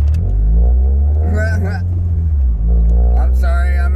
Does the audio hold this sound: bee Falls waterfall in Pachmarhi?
no